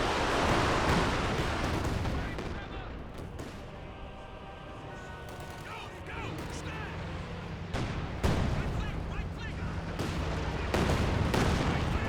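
Katyusha rocket artillery strikes in Company of Heroes 2 land among heavy booms, with rolling gunfire and explosions hitting in loud clusters amid dense battle noise.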